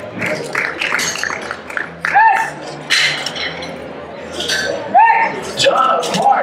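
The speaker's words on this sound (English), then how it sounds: "give her a round of applause" A powerlifting meet crowd breaks into brief bursts of applause and cheering, punctuated by metallic clinks of plates and bar, while an announcer speaks over the hall.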